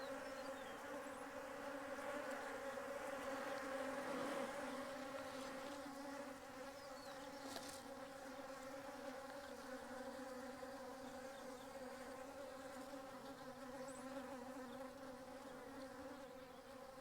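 Dark Carniolan honeybees buzzing steadily around an open hive, a dense continuous hum that swells slightly early on and stays even throughout, no voices.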